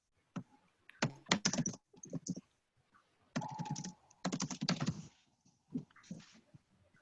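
Fingers type text on a computer keyboard in quick clusters of soft clicks, separated by brief pauses, quiet and alone.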